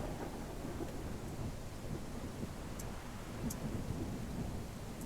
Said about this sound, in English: I think the storm confuses them because it's an electrical storm.